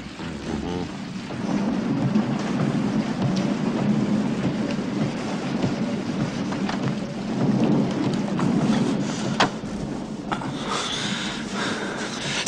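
A thunderstorm with steady rain pours down continuously while low thunder rolls and rumbles through, the downpour loud and close with occasional sharper cracks toward the end.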